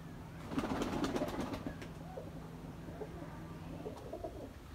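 Pigeons, including Rampuri and Taddy breeds, cooing softly in a loft, low murmuring coos layered with a brief burst of sharp clicks and flutter early on, faint and fairly close.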